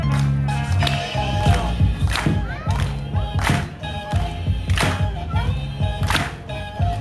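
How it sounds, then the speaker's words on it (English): A crowd at a Black Lives Matter gathering in Gresham claps together on the beat, steady rhythmic claps in a loose group with shouts and scattered voices mixed in throughout. "I need y'all to clap"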